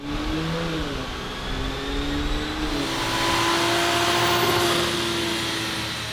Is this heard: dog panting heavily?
no